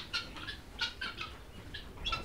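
Tithi breed laying hens on a poultry farm give repeated short bright clucks and calls in uneven bursts, fairly close, over a low rumbling background.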